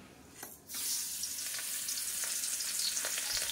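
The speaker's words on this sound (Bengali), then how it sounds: "তেলটা এখানে গরম হয়ে গেছিলো, মাছগুলো দিয়ে দিচ্ছি" Salted, turmeric-rubbed fish pieces slide into hot oil, setting off a loud, sudden frying sizzle after a brief quiet moment, then a dense, steady crackle with small pops, close by.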